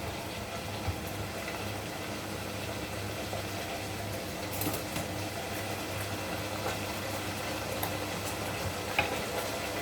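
Beef fries in a pan for a spicy tomato sauce, a soft, steady sizzle with faint scattered crackles, low in level and unbroken by any voice.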